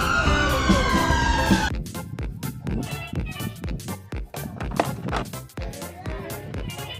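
A toy ambulance plays a wavering electronic siren for under two seconds. Then a run of plastic clicks and clatters follows as the toy vehicles are handled up close.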